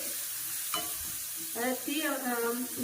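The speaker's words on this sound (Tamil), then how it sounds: "இப்போ இதில் நான் மிளகு சீரகம் பொடி பண்ணி வச்சிருக்கிறேன், அதை சேர்த்துக்கிறேன். ரெண்டையும் எண்ணெயில் நல்லா பொரியணும்." Ground black pepper and cumin sizzle in hot oil in a pan as a mint rasam is cooked, a steady close frying hiss with stirring scrapes and a spoon knock, while a faint voice hums or speaks in the background.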